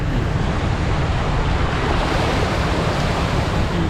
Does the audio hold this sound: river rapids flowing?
yes